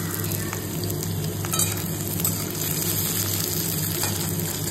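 Food fries steadily in a pan on a lit gas stove, giving a close, continuous hiss and bubbling sizzle with a few faint clicks and no voices.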